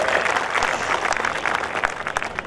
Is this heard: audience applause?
yes